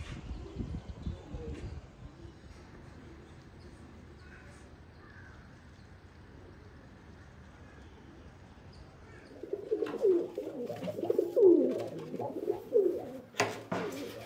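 Pigeons being trained for tournament flying coo in a loft. Silence comes first, then a run of repeated low, throaty coos rolls in close by over the last few seconds.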